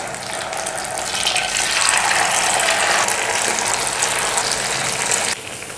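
Boti pieces of tenderised meat frying in hot oil over high flame, a close, steady crackling sizzle that swells and then drops off abruptly near the end, no talk.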